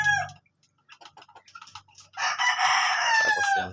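A rooster at a home poultry yard crows loudly and close by after a few soft clucks and rustles, with the crow holding steady, then sliding down at the end.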